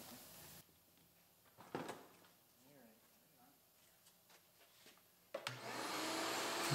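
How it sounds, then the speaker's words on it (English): A vacuum cleaner sucking up broken tempered glass inside a GMC Yukon that was hit by a semi. The motor starts loud and close near the end, after quieter rustling and knocks. "I'll vacuum up some of the glass."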